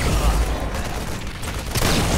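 Gunfire from the video game Heroes of the Storm, a dense burst of loud shots and booms that runs for about two seconds with no talking over it.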